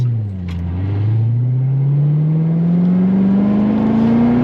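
A C7 Corvette Z06 Lingenfelter 720 with a seven-speed manual accelerates on throttle, its loud engine note climbing steadily in pitch for several seconds, close and continuous, with no talking.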